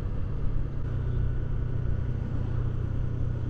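A motorcycle with an assist and slipper clutch coasts along with the throttle closed, giving a steady, even engine and road rumble with no revving, heard close and alone.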